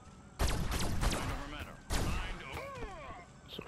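Gunshots in a video game: a few sharp, loud cracks arrive in two clusters, with reverberant tails and a player talking over them.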